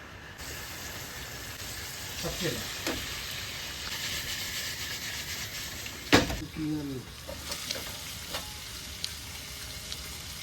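Fish frying in oil in a non-stick pan, with a steady hiss and sizzle broken by scraping stirs and a sharp clatter near the middle, heard up close.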